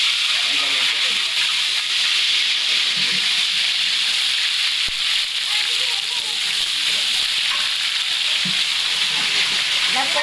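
Ginger garlic paste frying in a large cook's pot of oil for a Vidarbha-style red pumpkin curry made from a twelve-kilo pumpkin, a loud continuous sizzle with occasional stirring knocks and voices talking faintly underneath.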